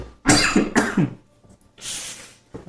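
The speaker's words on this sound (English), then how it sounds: "I'm coughing a lot" A person coughs close up, two harsh hacking coughs in quick succession, a pause, then a breathy, rasping throat-clearing exhale, with no talking.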